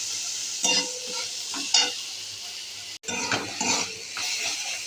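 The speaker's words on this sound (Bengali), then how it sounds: "পেঁয়াজটা ভাজা হোক" Onion frying in hot oil after garlic, with a continuous sizzle broken by scraping stirs of a spatula against the pan, close and clear with a brief cut midway.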